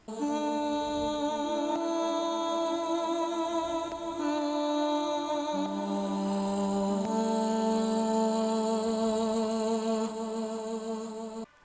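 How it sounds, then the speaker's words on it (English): A layered music passage for a song blends an m-tron with Ethera vocal samples, sustained choir-like tones shifting between chords at a steady, full loudness for about eleven seconds with no talking. "This is made up of a m-tron, vocals from Ethera"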